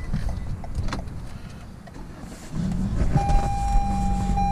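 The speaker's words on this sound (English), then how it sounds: "We'll go ahead and start the car." The engine of a 2019 Toyota Camry XSE turns over and catches partway through, settling into a steady low idle heard from inside the cabin, with a faint chime tone after it starts.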